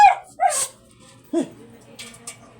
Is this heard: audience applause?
no